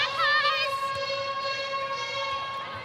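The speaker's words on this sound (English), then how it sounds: "You'll hear the siren for the Power 5." A netball stadium siren sounds for the Power 5 during a Suncorp Super Netball match between Magpies and Lightning, a loud sustained wailing tone held for about three seconds over a faint crowd murmur.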